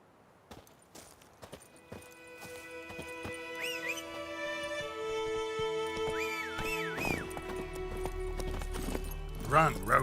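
Roach, Geralt's horse in The Witcher 3, gallops with a steady run of hoof clops beneath swelling game music, close and fairly loud, the hoofbeats rhythmic throughout.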